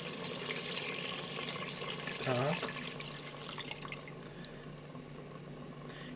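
Water poured over a spoon into a multicooker bowl of rice for chicken pilaf, giving a steady close trickle and splash that fades out after a few seconds, with a voice speaking briefly.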